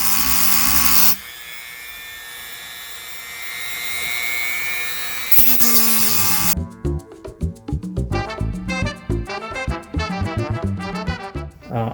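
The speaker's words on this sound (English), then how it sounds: "I go very gently with this tool in an effort to make the cutting wheel last as long as possible" A small rotary tool with a cutting wheel grinds into a switch base, a high steady whine giving way to a rapid run of short stuttering cuts, close and loud.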